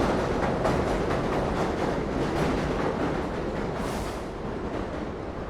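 A New York subway train at the 30th Avenue station gives a steady, loud broadband rumble and rattle of cars on the track, with no voices over it.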